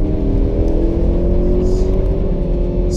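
A Mini Cooper S Countryman engine pulls hard at full throttle in fourth gear, a loud, continuous droning roar that rises slowly in pitch, heard from inside the car.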